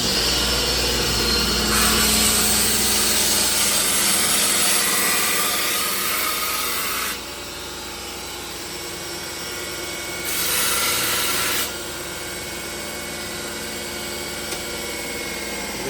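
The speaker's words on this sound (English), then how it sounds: "Let me grind these down so they don't..." A power grinder works metal parts aboard a motor yacht, running loud and continuous with a harsh hiss that fades and returns as the tool is lifted and pressed back on.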